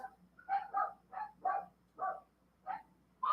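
Dogs barking outside, a series of short, fairly faint yelps and barks in an irregular rhythm, heard from a distance with no talk.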